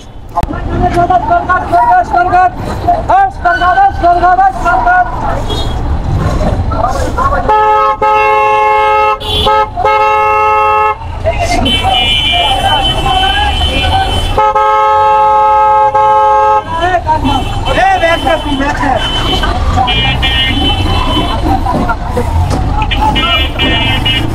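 Busy street traffic jam in Jatrabari, Dhaka, with car horns honking repeatedly, some long sustained blasts, over engine rumble and crowd babble; someone talks amid the noise.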